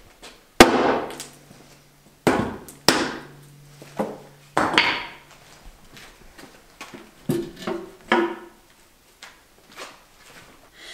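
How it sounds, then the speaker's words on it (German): A rubber or wooden mallet lightly taps a loose part during an engine block overhaul, giving roughly eight sharp, close knocks at irregular intervals over a low background hum, with no talking. "mit einem Gummi oder Holzhammer leicht draufklopfen. Dann löst sie sich und man kriegt die gut ab."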